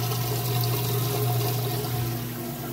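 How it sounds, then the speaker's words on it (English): Steady rushing water drains from a Whirlpool washing machine with a constant broadband hiss over a low mechanical hum, continuous and fairly loud throughout. "You can hear the water draining there."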